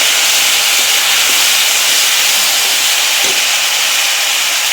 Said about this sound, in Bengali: একটু জল দিয়ে দিচ্ছি, কেন আমাদের মশলা যা দেবো এখন পুড়ে যাবে